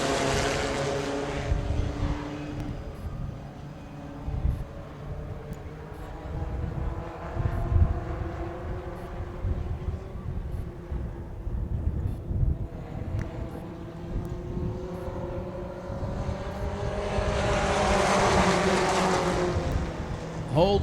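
Four-cylinder pro stock race cars roar around an oval track under green flag, a steady layered engine drone with rising and falling pitch as the pack passes, heard from a distance and continuous throughout.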